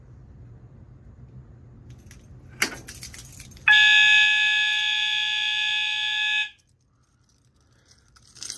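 A fire alarm system sounds after an ESLT pull station bar is pulled: a sharp clack, then a loud, steady high-pitched electronic alarm tone holds for about three seconds and cuts off abruptly into near silence.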